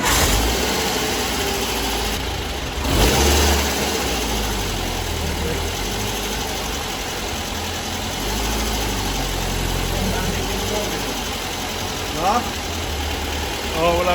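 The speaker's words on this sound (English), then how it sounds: "we've got our engine running" Engine of a Volkswagen T2 crew-cab van, an old barn find, running steadily at idle with a rough, vibrating mid-range drone and occasional revs, loud and close throughout, with voices talking over it.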